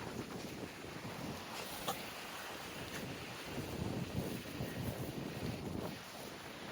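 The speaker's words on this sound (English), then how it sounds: "I'm in a very windy place" Strong wind roars continuously, buffeting the microphone with a rough, gusty rumble and no other clear sounds.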